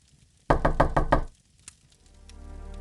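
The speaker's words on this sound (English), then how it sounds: "Can you answer the door, Kieran?" Rapid knocking on a door in The Wheel of Time video game: five loud, evenly spaced raps close by, then a faint tap and a low background hum rising afterward.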